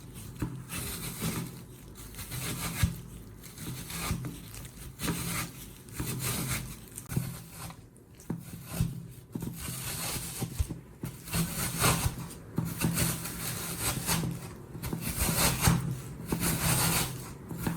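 Chicken is rubbed across a sharp kitchen grater into small, even shreds, making a continuous rough rasping and scraping close by in repeated strokes, with no talking.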